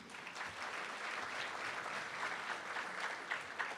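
Audience applause for council members at a ribbon-cutting ceremony for a community center grand opening: steady, dense clapping from a crowd, moderately distant and even throughout.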